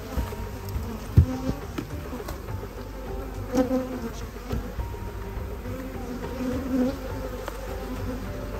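A swarm of bees buzzes steadily and close around a beekeeper working hives in a queen-mating operation, the dense drone swelling and ebbing with a few louder passes near the microphone.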